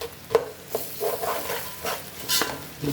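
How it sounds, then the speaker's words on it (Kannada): Garlic fries in hot oil in a pan with a steady sizzle while a utensil stirs and scrapes it in several distinct strokes, close and fairly quiet, with no talking. "ಬೆಳ್ಳುಳ್ಳಿ ಮಾತ್ರ ಚೆನ್ನಾಗಿ ಫ್ರೈ ಮಾಡ್ಕೋಬೇಕು."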